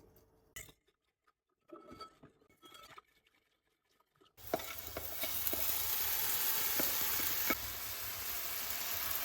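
Vegan omelette sizzling in a frying pan over low heat, a steady close hiss of frying that starts abruptly after a few quiet moments with faint clinks.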